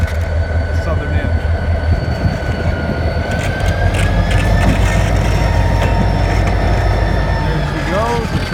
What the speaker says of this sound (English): This train coming at us is coming out of the Domtar paper plant